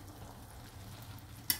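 Pancit lomi with chicken liver stirred in a pan, a soft continuous sizzle and scraping, ending with a short sharp clink of utensil against the pan.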